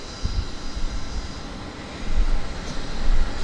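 Airliner at Vancouver airport, a steady distant jet engine roar with a broad rumble that swells slightly toward the end.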